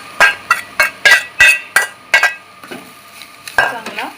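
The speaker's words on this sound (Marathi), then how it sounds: "चांगला फिरवून घेऊया।" A spoon scrapes and knocks rhythmically against a pan, stirring crumbled leftover chapati into a chivda mix with about eight quick strokes, then lighter scraping with a faint sizzle.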